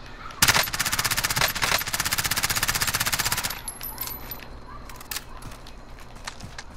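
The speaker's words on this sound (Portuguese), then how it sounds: "Tinha gente atirando nele." In a Call of Duty: Warzone match, a long rapid automatic burst rattles out loud and close, then breaks off into scattered single shots and quieter distant pops. No one speaks.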